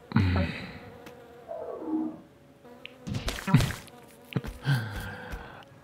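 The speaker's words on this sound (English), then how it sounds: "Oh no, not the bees." Bees buzzing in the platform video game Spelunky come in several short, separate bursts of droning buzz, rising and fading against quiet gaps.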